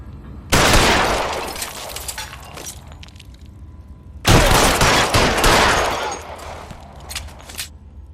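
Video game gunfire in L.A. Noire, two heavy bursts of rapid shots, the first starting near the beginning and the second midway, each loud and dense before thinning into scattered cracks and shattering impacts.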